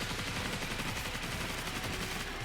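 Heavy weapon gunfire in the zombie shooter World War Z Aftermath, a dense, continuous roar of rapid shots and chaotic combat noise that holds steady and loud across the whole stretch, with no talking.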